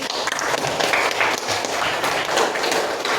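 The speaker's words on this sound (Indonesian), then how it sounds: "Sekarang tepuk tangan dulu." Students in a classroom clap their hands together in steady, moderately loud applause lasting a few seconds, with light scattered taps and a little background noise.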